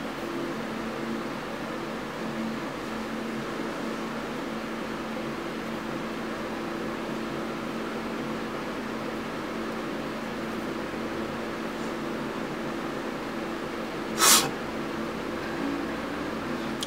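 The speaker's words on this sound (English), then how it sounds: "I have the fan on blast because if you're not watching from Australia, it's freaking hot in Sydney" An electric fan runs on high indoors as a steady, even whoosh of air that holds throughout, with one brief sharp click near the end.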